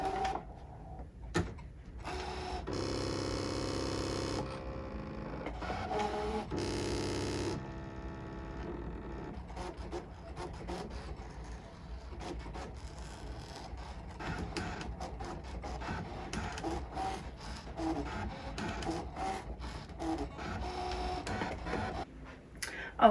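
An electronic cutting machine slicing felt for a plush jack-o'-lantern craft, heard as a close whirring, humming mechanism with bursts of motor drive and carriage movement, starting and stopping in short runs over a quiet room.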